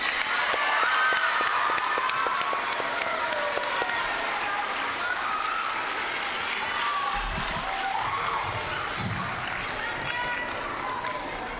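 Sustained, lively applause from a school audience of children and families at an end-of-term awards ceremony for fifth and sixth graders, with scattered cheers and voices mixed through, gradually thinning toward the end.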